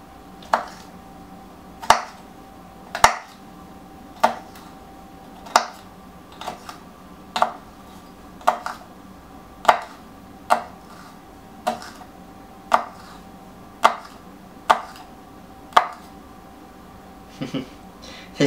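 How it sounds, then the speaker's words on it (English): Knife chopping chilli on a cutting board, with a steady series of sharp, evenly spaced close thunks about one per second, heard alone over faint kitchen room tone. "And then finally chop."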